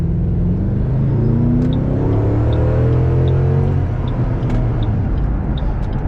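A 20-year-old Mustang accelerates hard in a steady pull, its engine note rising loud and close from inside the car, with a sustained low rumble throughout and no talking.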